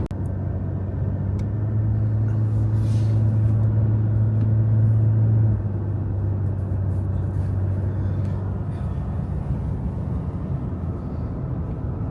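A car drives along a desert road toward Lake Mead and Valley of Fire, a steady low engine and tyre rumble heard from inside the cabin, slightly heavier in the first half, with no talk.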